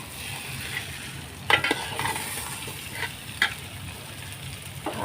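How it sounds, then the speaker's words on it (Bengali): Rice for biryani sizzles in a pan under a soft, continuous hiss, with occasional clinks and scrapes of a stirring spoon, close by and quiet. "তো এই যে ভালোভাবে চাউলটা ভেজে ফেললাম"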